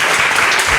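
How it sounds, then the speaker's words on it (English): A brief burst of steady applause from a lecture audience, many hands clapping together. "round of applause for both of them"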